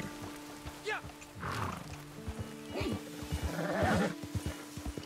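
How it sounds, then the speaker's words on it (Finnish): A horse whinnies and rears in Red Dead Redemption 2, with rough roaring calls and snorts over game sounds, and a voice talking over it. "Tuo hevonen on keulottu."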